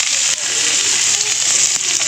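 Chopped onion hitting hot oil for Bengali masoor dal, giving a loud, continuous close-up sizzle with a few crackles and no voices.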